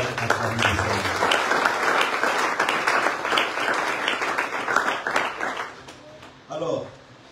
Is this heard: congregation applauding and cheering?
yes